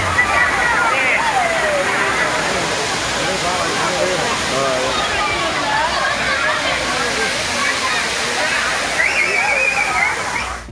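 Thiruparappu waterfall in Kanyakumari district pours steadily in a dense, continuous roar of falling water, loud and close, with voices of many visitors mixed faintly under the rush.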